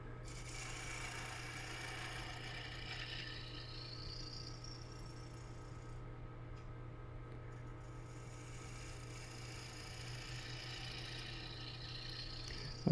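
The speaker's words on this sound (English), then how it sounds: "I'll pull and scrape out a cut, then I'll turn around and I'll make a push cut" A wood lathe spinning with a steady hum while a tool scrapes and rasps across a turning wooden bowl, continuous and close, with the cutting noise swelling and easing as the tool moves.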